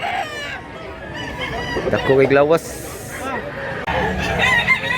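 A rooster crows among other fowl being sold at a Cebu market, a loud crow rising over clucking and nearby talk, with people speaking throughout.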